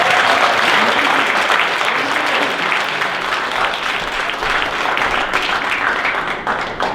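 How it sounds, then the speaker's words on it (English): Audience applause after a magic show, a loud, dense burst of many hands clapping that holds steady for several seconds and eases slightly near the end. "will you give the little robots a round of applause?"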